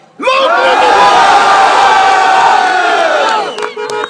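A large crowd roars and cheers loudly at an election victory speech in Bradford West, a sustained wall of shouting that fades near the end.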